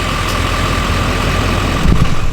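A GMC Denali pickup truck engine idles close by with a steady low rumble, slightly swelling near the end, with no voices.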